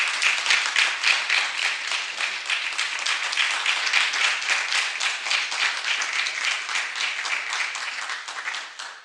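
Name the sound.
audience applause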